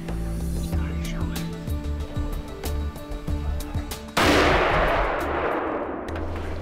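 A hunting rifle fires once at a six-point deer. The sharp shot rings out abruptly after several seconds of quiet whispered talk and lingers as a broad rush of echo.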